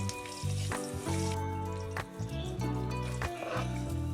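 Curry leaves sizzle and crackle in hot coconut oil for a cuttlefish devil, with steady frying and a few sharp spits and pops, close and moderately loud.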